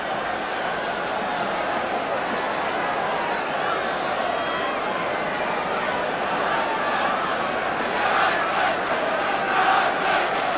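West Ham's home crowd roaring after a late goal against Chelsea, a dense, sustained wall of cheering and chanting from a packed stadium that swells louder toward the end, with a commentator's voice faintly beneath.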